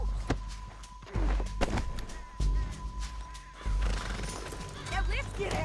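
Horses in Red Dead Redemption 2 whinny and snort amid clopping hooves and gunfire-like crashes, with urgent voices talking over the action.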